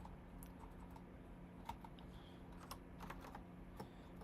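Quiet typing on a computer keyboard while coding: light, irregular key clicks come in quick bursts and short pauses, close to the listener, with no talking.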